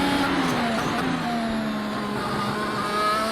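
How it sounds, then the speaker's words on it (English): A race car engine at a Long Beach street race drones loud and steady from the cockpit as the driver chases the throttle through a corner, pitch wavering slightly under constant load. "You can hear me chasing the throttle in the corner quite early"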